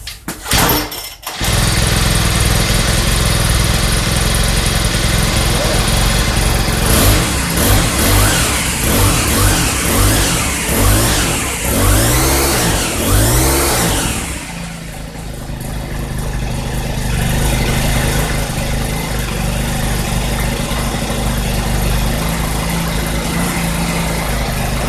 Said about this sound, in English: This Cub Cadet 470 4-stroke trimmer is back in business again.